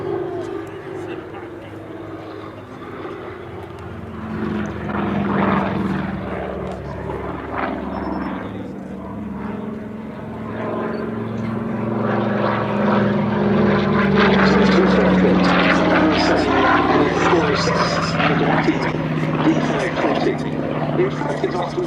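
A Curtiss P-40F Warhawk and a Hawk 75 fly at the Duxford Battle of Britain airshow, their piston propeller engines droning and building to a louder, rising roar while a commentator speaks over the public address throughout.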